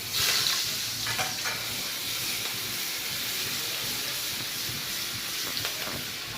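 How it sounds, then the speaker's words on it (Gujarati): Garlic chili paste frying in hot oil with cumin and asafoetida, a steady close hiss and sizzle throughout with a few faint clinks of a utensil, no voices. "જીરું તતરે છે ત્યારે જ આપણે તેની અંદર હિંગ એડ કરીશું. લસણ મરચાંની પેસ્ટ એડ કરું."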